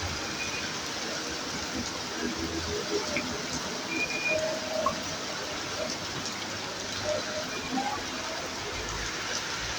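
Heavy rain pours down over Satkhira Sadar, Bangladesh, as a steady, dense hiss that holds evenly throughout at moderate loudness, with faint scattered background sounds mixed in.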